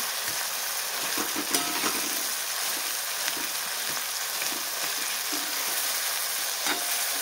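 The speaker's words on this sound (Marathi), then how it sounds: "परत एकदा 1 ते 2 मिनटं ह्याला छान परतून घेऊया" Chopped tomatoes sauté in hot oil for egg bhurji, a steady close-up sizzle and crackle that runs unbroken, with a few faint scrapes of stirring and no talking.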